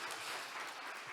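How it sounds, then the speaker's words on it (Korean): Brief burst of audience applause at a Korean-language festival closing ceremony after a pansori performance, a steady wash of clapping at moderate distance with no talk. "다시 한번 큰 박수를 부탁드리겠습니다"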